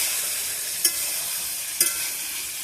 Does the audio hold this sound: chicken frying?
yes